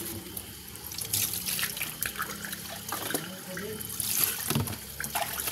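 Water runs steadily from a tap into a basin, a close, continuous splashing rush with faint drips and no voices.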